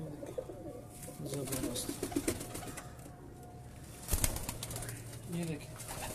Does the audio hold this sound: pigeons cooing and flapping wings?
yes